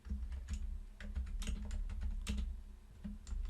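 Rapid clicking of keys on a computer keyboard, irregular bursts of taps close by, with a low background hum and no speech.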